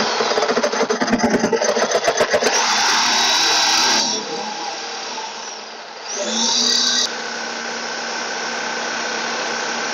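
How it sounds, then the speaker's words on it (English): A reciprocating saw cuts along a marked line on a Mk5 R32 during an Air Lift 3P suspension install, a loud close buzzing with rapid pulsing strokes that stops briefly, then resumes steadily to the end. "I'm going to cut mine with a sawzall."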